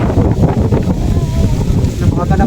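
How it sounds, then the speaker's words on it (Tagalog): Strong wind buffets the microphone by a riverbank near a large balete tree, a steady loud roaring rush with no letup. "ang laki ng hangin."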